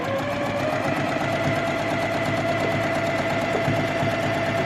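A sewing machine stitches a flying geese quilt unit in one steady, close, unbroken mechanical whir that holds level throughout.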